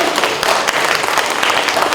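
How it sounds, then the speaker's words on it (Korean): A steady wash of applause from a crowd at an award ceremony, dense and continuous clapping filling the whole stretch at moderate loudness. "여러분 축하의 박수 보내주시죠."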